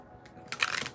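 A brief riffle of tarot cards being shuffled, a soft papery flutter rising into a quick crisp burst, close by.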